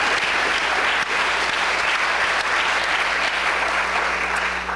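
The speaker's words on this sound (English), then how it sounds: "Can we have a round of applause?" An audience at a talk on NAFTA's impacts on workers applauds steadily, dense clapping continuing at an even, full level throughout.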